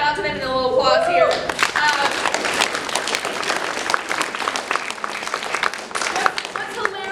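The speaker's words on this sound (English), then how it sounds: "can we give a shout out to them and a little applause here?" At a school play about deer overpopulation, an audience gives sustained applause with many distinct claps, and a voice speaks briefly at the start before the clapping takes over.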